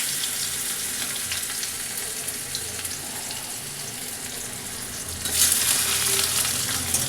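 Chopped onion hits hot oil in a pan and sizzles loudly and steadily, with stirring scrapes running throughout and a sharper burst of crackle partway through.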